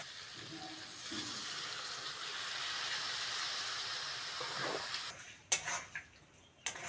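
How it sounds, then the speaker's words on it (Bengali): Water poured into a pan of frying ginger-garlic paste brings a loud, steady sizzling hiss that swells and holds, then drops off, followed by a few sharp stirring knocks against the pan. "আদা রসুনের কাঁচা গন্ধ চলে গেছে অল্প করে জল দিয়ে দেবো"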